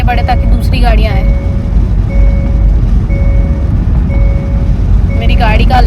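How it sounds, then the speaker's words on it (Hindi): A car alarm beeps repeatedly in an even, steady series of tones about once per second amid road traffic noise, with voices talking before and after. "मेरी गाड़ी का अलार्म बज रहा है बार बार।"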